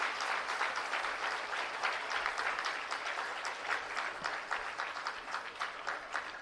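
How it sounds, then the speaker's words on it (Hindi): An audience applauds at a new school block inauguration by an education minister, with dense, steady clapping throughout and no pause. "आइए एक बार जोरदार तालियों से हम अभिवादन करें"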